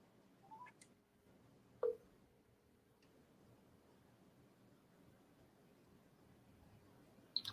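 Telephone keypad tones dialed to connect a radio call-in: a few short, separated beeps, one near the start, a stronger one about two seconds in and another near the end, over low background hiss.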